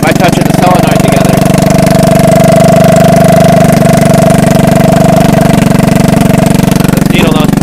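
Straight-piped three-wheeler engine running loud and close, a steady rough mechanical drone with a continuous throbbing rumble throughout.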